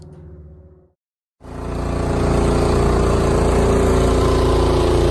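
Troy-Bilt Storm 3090 30-inch dual stage snowblower engine starting up after a brief silence, then running at a steady loud roar close by, alone.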